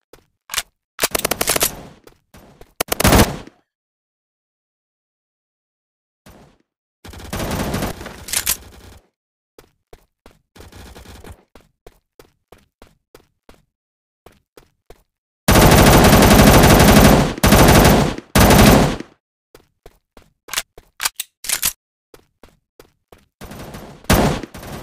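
Gunfire from the shooting video game MaskGuns comes in several separate bursts of rapid automatic fire, the longest and loudest about three seconds, with silent gaps and scattered faint clicks between.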